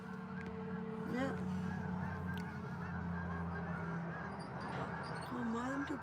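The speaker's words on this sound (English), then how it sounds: "There's that big flock of geese going across there." A big flock of geese honks repeatedly from a distance at a Cape Breton, Nova Scotia shoreline at sunset, the calls rising and falling over a low steady background hum.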